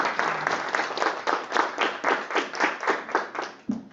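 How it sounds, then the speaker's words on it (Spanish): Audience applause at an academic talk, a steady, fairly close stretch of many hands clapping with a pulsing rhythm, fading at the end as a voice begins. "Les pedimos que les den un fuerte aplauso"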